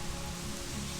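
A brief stretch of steady rain pattering on a surface on a windy day on a Mexican island, a dense, even hiss with no voices.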